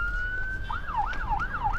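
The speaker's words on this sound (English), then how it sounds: "every time we start filming and start getting close to the photos, a siren goes off" An emergency vehicle siren wails outdoors, starting with a steady tone and then rising and falling in a regular up-down sweep, moderately loud over low traffic rumble.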